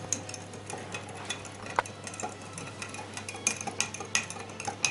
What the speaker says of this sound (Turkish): biraz karıştırıyorum